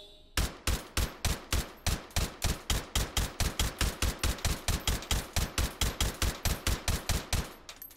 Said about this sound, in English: let's just do a little shooting